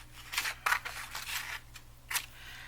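Scissors snip around paper pieces for a vintage-style grunge journal, several quiet crisp cuts in an uneven rhythm, close by with a faint steady hum behind.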